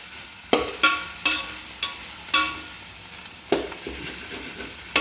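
Vegetables fry in a pan with a steady close sizzle, broken by about a dozen sharp scraping strokes of a spoon against the pan at an uneven rhythm.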